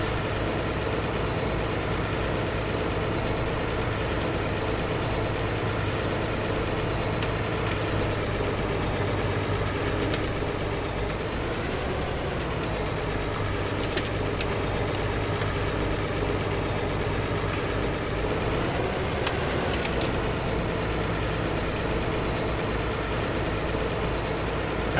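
A cabless 1965 tractor in the Farming Simulator game on a Poland map runs with a loud, steady engine drone that stays continuous throughout, with small shifts in pitch and no voices.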